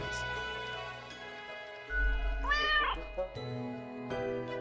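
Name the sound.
cat meowing in the video game Death and Taxes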